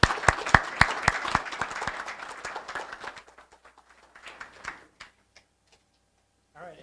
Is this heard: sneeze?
no